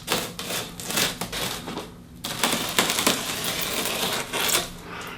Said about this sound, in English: take my razor, cut the plastic.